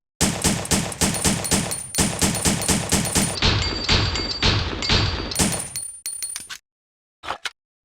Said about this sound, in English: So let's test out the Handgun A right here.